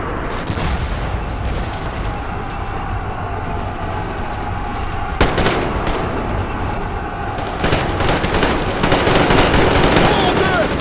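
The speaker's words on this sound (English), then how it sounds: "I think it might be called the Sega. The auto shotgun one." Rapid auto shotgun fire from the Saiga in Metro Exodus, a dense run of loud bursts and booms with other game gunfire and battle noise throughout, heaviest toward the end.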